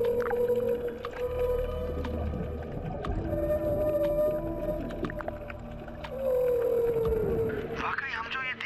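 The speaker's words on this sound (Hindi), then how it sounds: "जब दोनों एक साथ तैरते हैं तब ये खास तरह का साउंड निकालते हैं जिसे व्हेल सॉन्ग" Whale song from a female whale swimming alongside her calf underwater, heard as long tonal moans and sweeping calls layered over a rumbling undersea background, with a brighter rising call near the end.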